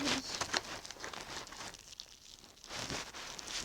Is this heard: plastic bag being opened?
yes